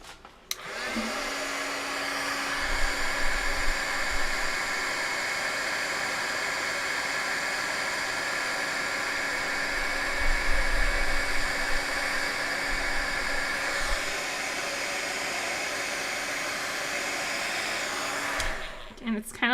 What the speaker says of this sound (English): then we'll heat emboss